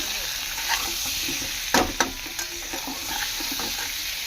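Small whole potatoes fry in oil with salt and turmeric for aloo dum. A steady close sizzle runs throughout, broken by several sharp spatula scrapes and stirs in the middle, with no talking.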